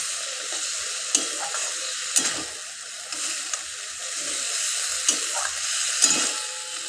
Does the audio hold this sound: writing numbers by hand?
no